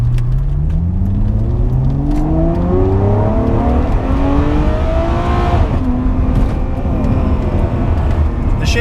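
A Ferrari 599 GTO accelerates hard from inside the cabin, its engine note climbing through several gears with quick shifts between rising sweeps, loud and continuous under the rush of road noise.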